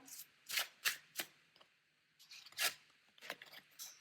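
Oracle cards being shuffled in short bursts of crisp riffling and flapping, several separate shuffles spread across a few seconds, close and fairly quiet with no talking.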